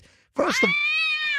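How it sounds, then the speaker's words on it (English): A cat gives one drawn-out meow, loud and close, with a rising then sustained tone lasting about a second after a brief quiet start. "Just a cat."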